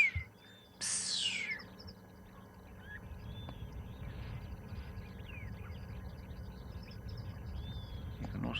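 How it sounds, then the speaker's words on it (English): Water thick-knee calling at a private game reserve in the African bush, its thin whistled notes sounding faint and distant, repeated a few times over a low background hum. "You can hear a water thickney going psst."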